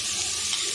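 Finely chopped bottle gourd stirred and sautéed in a pan gives a brief, steady close sizzle with soft scraping.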